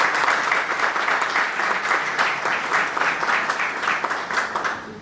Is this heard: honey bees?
no